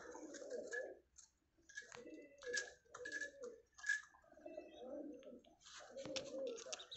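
Domestic pigeons coo in repeated throaty bursts, several birds close by, with soft pauses between calls and a faint tapping underneath.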